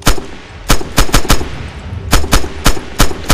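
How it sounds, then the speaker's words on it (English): A machine gun fires in the video game Red Orchestra: loud, close, rapid bursts of sharp shots with short pauses between the volleys. "Just hose bullets from your MG."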